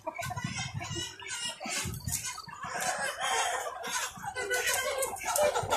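Dense flock of chickens at a poultry farm raising about 3,000 birds, with loud overlapping clucks, cackles and rooster crowing close by, continuous throughout.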